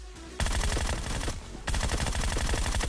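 Rapid automatic gunfire rattles through an online shooter game in two long sustained bursts, loud and close, with a short pause between them and no voices.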